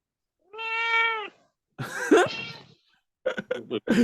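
A cat meows once in a long drawn-out call, then gives rougher, throaty sounds, followed by a few short bursts, all close and clear in a quiet room.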